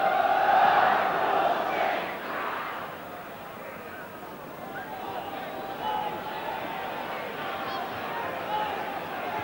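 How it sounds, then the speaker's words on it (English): Football crowd applauding and roaring around the ground at an FA Cup 4th round replay between QPR and Luton Town, a loud swell at first that eases into a steady distant crowd rumble. "when you hear the applause ringing around the ground"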